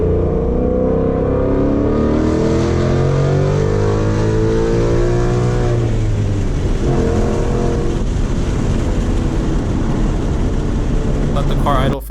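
A 2019 Mustang GT V8 with an aftermarket intake and tune sweeps up through its rev range at wide open throttle, a loud, steady roar climbing in pitch over several seconds, then holding at high revs for the rest of the clip.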